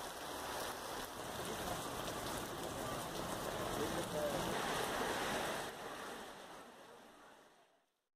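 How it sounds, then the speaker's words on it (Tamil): Sudden heavy rain pours down in a steady, dense roar that stays loud and close throughout, then fades away at the end. "திடீரென கனமழை பெய்தது."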